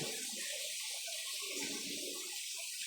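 A steady wash of rushing water fills the space, constant and enveloping, a waterfall echoing inside a cave at a Thai temple in Phayao, with faint low murmurs beneath.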